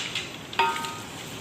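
A large batch of onions frying in oil toward golden brown for chicken qorma, a soft steady sizzle with a brief sharp clink of a utensil against the pot midway.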